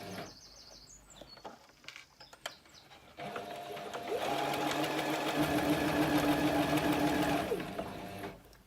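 A sewing machine stitching around the top of a fabric drawstring bunny gift bag, running in a steady, close, whirring burst of several seconds after some quieter handling clicks.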